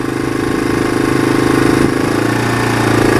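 A dirt bike engine runs loud and close, giving a rapid pulsing rattle that rises slightly as a little throttle is applied and then settles, with no talking.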